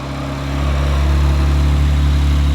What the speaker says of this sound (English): A little bit of induction noise.